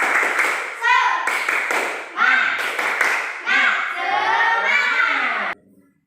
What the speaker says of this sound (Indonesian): Sekarang kita akan tepuk semangat terlebih dahulu.